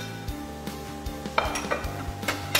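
Ginger, jicama and carrots stir-fried together in a pan, a close, even sizzle under repeated scraping and clinking of a utensil against the pan, with no voices.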